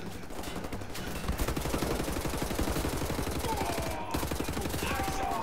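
Sustained rapid gunfire from the video game Wolfenstein: The New Order, a dense automatic rattle running almost without pause, loud and close, with a short break near the end.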